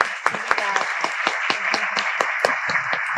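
An audience at an opening ceremony claps for a deputy, sparse distinct handclaps in an uneven rhythm over a soft background murmur.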